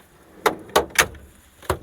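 Tool drawers in a heavy equipment service truck slide and knock, giving four sharp, close clunks spaced unevenly, three close together and one after a pause, with no talking.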